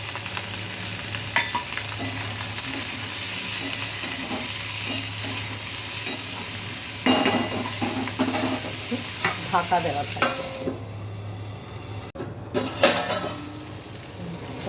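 Capsicum frying in a pan with salt and turmeric, a continuous sizzle under frequent scraping stirs and clinks of a spoon against the pan, with a brief spoken phrase.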